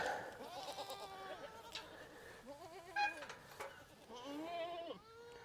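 Several goats bleat in turn on a farm, wavering nasal cries from close by, one after another with short gaps and some quieter background noise.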